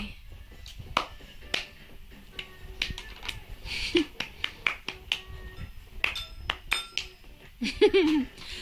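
Sharp, irregular claps or snaps scattered through the scene, with light clinking and background bustle, and a brief high vocal squeal near the end.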